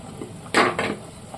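A short metallic clatter as a lid is lifted off a pot of boiling water for chicken biryani, followed by a softer second scrape, with low kitchen background noise around it.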